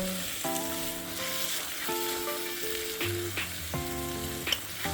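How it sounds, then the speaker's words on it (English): Egusi (ground melon seed) frying with crayfish in a pan as it is stirred, a soft steady sizzle running beneath louder background music throughout. "this egusi is well fried"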